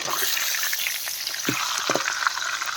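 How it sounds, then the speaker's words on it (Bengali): A fish head coated in salt and turmeric frying in oil in a wok for a cauliflower curry: a bright continuous sizzle with a couple of short clunks and spatters as it is flipped over, no voices. "মাছের মাথাটা নুন হলুদ দিয়ে মাখিয়ে নিয়ে ভাজা বসিয়ে দিয়েছি আর মাছের মাথাটাকে এখন উল্টে দেব"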